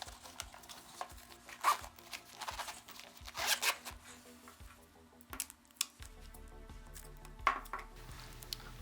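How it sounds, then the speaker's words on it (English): The zipper on a Gen III Marine Corps plate carrier gives short, quiet rasping pulls close by, broken up by scattered clicks and gear-handling noises. "we're going to go ahead and gum up this action on the zipper to silence it"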